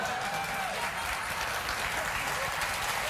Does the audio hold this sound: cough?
no